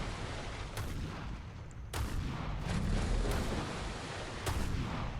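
Heavy ship guns firing in a naval battle game, booming blasts repeating every second or so over a continuous low rumble of battle noise.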